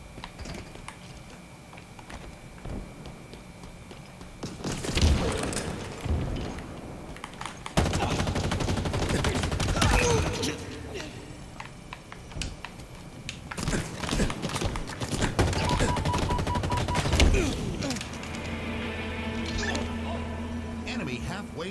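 Pulse carbine fire in a Halo Infinite multiplayer match, with bursts of rapid energy shots in several clusters and bangs, keyboard clatter between them, and someone talking over much of it.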